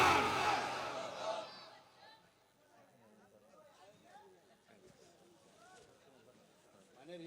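A large religious gathering shouts back "Allahu Akbar" in one loud, unified surge to a Nara-e-Takbir call, then fades into softer scattered chatter and murmuring.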